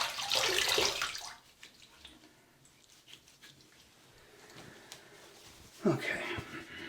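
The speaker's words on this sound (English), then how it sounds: "let's have a rinse and see what the damage is" Running water splashing during a rinse after a razor shave, a close hissing gush for about a second, a quieter stretch with faint movement, then another brief splash of water near the end.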